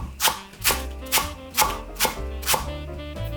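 Knife chopping green onion on a cutting board, seven crisp evenly spaced strokes roughly every half second, close and clear with no talk.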